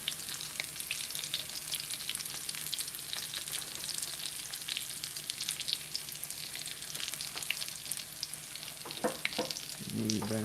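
Breaded chicken of the woods mushroom pieces fry in a pan with a steady, dense crackling sizzle. A few sharper pops and scraping stirs come near the end.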